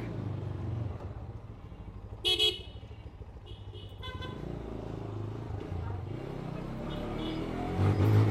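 A freshly serviced motorcycle is ridden along a road, its engine giving a steady low rumble throughout, with one short horn toot partway through and faint traffic around it.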